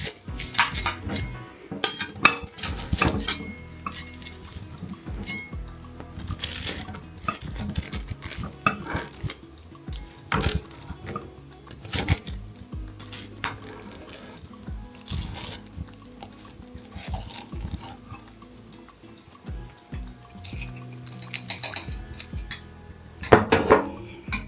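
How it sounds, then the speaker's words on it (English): Cutlery cutting and lifting a slice of veggie pot pie from its dish, with sharp metallic clinks and scrapes against the pan, soft squishy cuts, and quieter handling between them, close and with no talk. "So we're now going to cut a slice."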